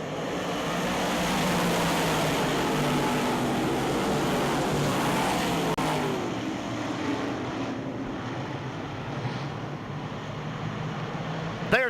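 Big block modified race cars roaring around a night-time oval, a loud sustained engine drone with pitch sweeps as the pack passes, fading somewhat then a car swooping close at the end.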